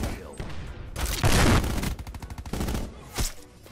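Rapid bursts of tactical rifle fire in Black Ops 4, loud and close, with quick clustered shots in short four-round groups and a faint voice in the background.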